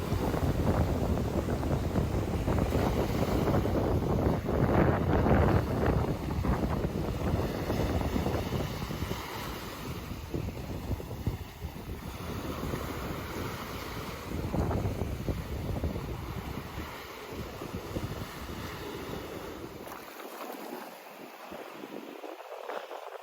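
Strong wind and crashing surf on a beach during an evening walk under an overcast sky, a steady loud roar of gusts and breaking waves with no voices.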